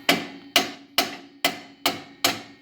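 A hammer taps a seized brake caliper pin on a Lexus IS, six sharp metallic knocks at an even, unhurried rhythm, close and clear with no talk.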